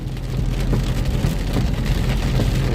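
Heavy rain pours down in Pak Chong, Thailand, during a storm that floods the road. The steady, dense hiss of rainfall on surfaces stays loud and continuous throughout, with no voices.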